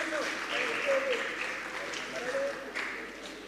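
An audience at a medical program in Pakistan claps for Dr. Sikandar Ali, a moderate, slightly distant patter of applause mixed with talk over a public address system.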